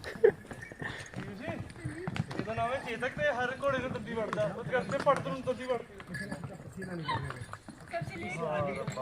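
Horse hooves clip-clop during a horse ride near Gulmarg in summer, faint, irregular thuds sitting beneath near-constant talk and other voices.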